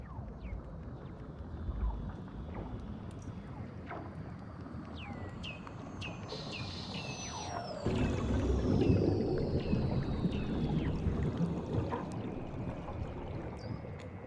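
Eerie underwater calls of Weddell seals: descending whistles, chirps and long gliding trills, some close and some distant, over a low watery rumble.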